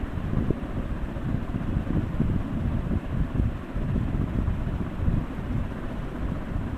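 Loitta fish coated in spice powder frying in hot, foaming mustard oil gives a dense, steady sizzle and crackle that stays loud and continuous throughout.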